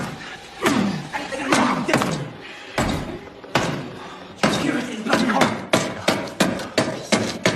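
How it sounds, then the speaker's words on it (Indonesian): A wooden door frame is forced open with a screwdriver, giving loud, sharp knocks and cracking thuds close by, first irregular and then in a faster rhythmic run of blows. "memutuskan untuk menjebol pasekon kayunya menggunakan obeng, di mana suara yang ditimbulkan ternyata cukup berisik"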